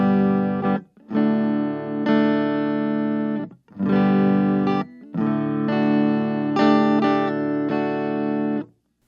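Electric guitar on the neck humbucker pickup of a Harley Benton ST-Modern HH rings out in full, warm sustained chords, strummed in several separate bursts with short silent gaps between them.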